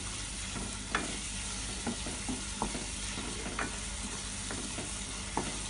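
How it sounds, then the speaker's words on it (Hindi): Onions fry in a pan for mutton kofta with a dense, continuous sizzle and occasional soft clicks of a spoon stirring, close up and steady throughout, no voices. "प्याज हमारा बिल्कुल अच्छी तरह से भून चुका है।"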